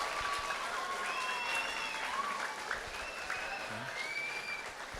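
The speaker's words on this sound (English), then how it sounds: "give them a really loud round of applause" A career day crowd breaks into sustained, dense applause, a steady wash of many hands clapping, with faint whistles and cheers mixed in.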